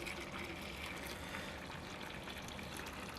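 Hot water pumped from a hot liquor tank into a homebrew vessel on an IPA brew day, a steady unbroken rush and trickle of liquid running throughout, close and even in level, with no speech.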